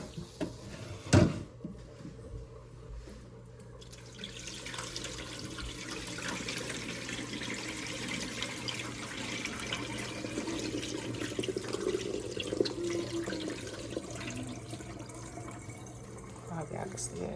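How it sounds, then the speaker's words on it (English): Water pours and splashes steadily into a sink for several seconds after a sharp clunk, with a faint voice underneath, as water is drained from a pan of spaghetti meat. "and then I just drain the water off."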